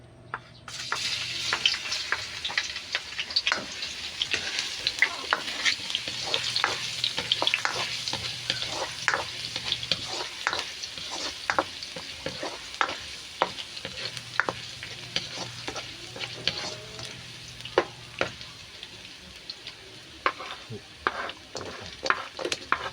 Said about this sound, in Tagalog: Mainit na yung mantika, ilalagay na natin.